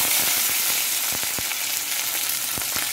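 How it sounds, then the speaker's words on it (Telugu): Chopped tindora, or ivy gourd, fries in hot oil in a pan, giving a dense, steady close sizzle dotted with a few sharp pops and light stirring clicks, with no talking. "దొండకాయలని ఆ నూనెలో బాగా వేయించుకోవాలి"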